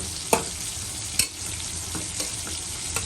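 Chicken and vegetables frying in a pot are stirred, a constant close sizzle broken by a few sharp scraping strokes of the spoon against the pot, with no talk.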